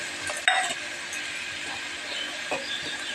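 Fish sizzling in hot oil in a pan with turmeric and green chillies, a steady, close frying hiss with a brief clink of stirring, no talking.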